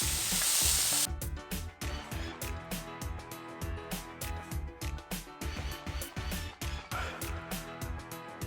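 Vegetables for noodles fry in a pan with an intense sizzle at the start, then rhythmic scraping stirs repeat steadily over continuous frying noise, close and fairly loud.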